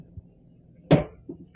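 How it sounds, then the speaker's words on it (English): A hammer cracking open a coconut: one loud, sharp, close blow rings out against a quiet background, followed by a softer knock a moment later. "He's using a hammer to crack the coconut open."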